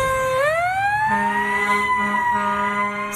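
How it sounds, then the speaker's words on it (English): Fire truck Ladder 126 wails its siren in Utah traffic, a loud rising-and-falling electronic tone, joined after a second by a steady low air-horn drone that holds, briefly breaks, then resumes. "Sirens, lights, horns, all signaling for people to get out of the way."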